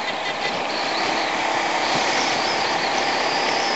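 A Yamaha MT-03 motorcycle rides along the road with a steady, loud roar of engine and wind noise that holds without break, no voices over it.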